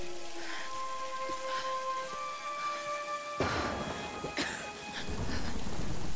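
Steady rain falls in the Tomb Raider video game, a dense wash of hiss that swells louder midway, with faint thunder rumbling beneath and no voices.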